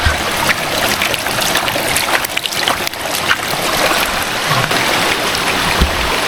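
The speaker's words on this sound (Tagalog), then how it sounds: "may kasama na siyang batis" A mountain stream flows along a forest trail, a steady broadband rush of water that runs continuously and fairly loud, with no voices over it.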